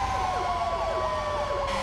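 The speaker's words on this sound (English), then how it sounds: "That's a lot of sirens" Several wailing sirens in Grand Theft Auto V rise and fall together in a steady repeating sweep, loud and continuous over a low rumble, with no talking.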